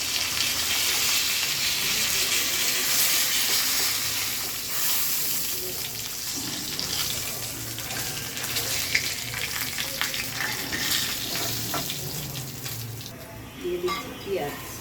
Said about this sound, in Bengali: মাছগুলো আমার ভাজা হয়ে গেছে। আমি এক এক করে মাছগুলো তুলে নিচ্ছি।